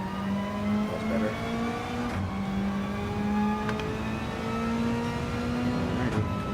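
A racing video game car engine drones steadily and revs throughout, with brief dips in pitch around two and six seconds that suggest upshifts, loud and continuous with no talking.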